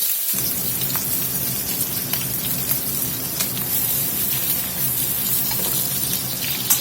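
Batches of pork belly brown in a hot pan, a constant loud crackling sizzle with a low rumble underneath, steady throughout with a few sharper pops.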